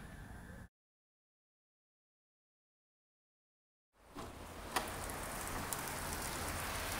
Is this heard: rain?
yes